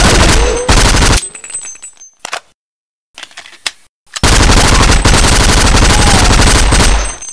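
Rapid automatic gunfire from UZI and Tec-9 submachine guns in the shooter game Half-Life: WAR, loud close bursts that break off, leave a brief silence and a few sporadic shots, then return as a long sustained volley.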